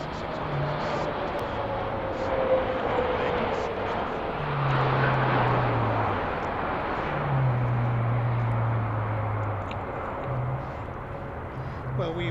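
Airliner at Heathrow airport producing a broad, steady jet roar across the whole stretch, with a low droning engine tone rising and falling in a few surges; faint voices are present underneath.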